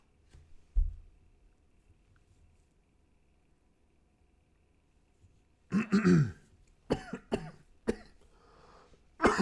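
A person coughs and clears their throat in a few short, harsh bursts after a long stretch of near silence, close and fairly loud, with no talking.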